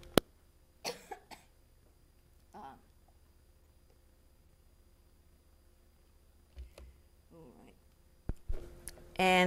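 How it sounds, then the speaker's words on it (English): Several sharp coughs scattered through a quiet stretch, with a short cluster near the start, a few isolated ones, and more near the end. "Oh, I need to cough."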